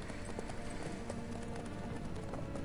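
Horse hooves clip-clopping at a walking pace in The Witcher 3 video game, a steady close rhythm of hoofbeats filling the whole stretch with a dense game soundscape behind it.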